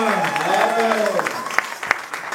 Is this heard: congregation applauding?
yes